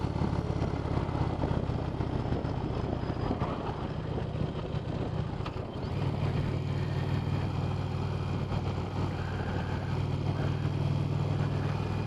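A 2020 Indian Challenger Darkhorse motorcycle ridden at a dealer demo day drones steadily under wind rush, with a brief dip and shift in engine note partway through as the rider changes gear.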